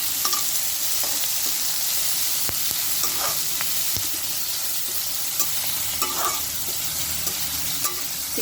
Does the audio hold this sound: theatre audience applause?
no